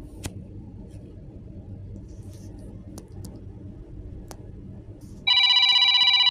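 A loud WhatsApp notification ringtone on a phone bursts in near the end, a bright repeating melodic pattern after a stretch of low background rumble and a few soft clicks.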